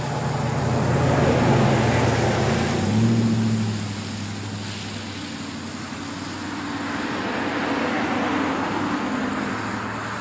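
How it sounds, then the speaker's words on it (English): Steady road traffic passes near an outdoor raised vegetable garden bed, a continuous low rumble that swells and fades as vehicles go by, with no talking over it. "Sorry about the traffic."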